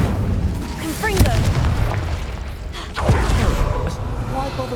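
Booming magical blasts from the Confringo spell in Hogwarts Legacy, two heavy explosive thumps a couple of seconds apart over a rumbling game soundscape, with a voice calling out the spell.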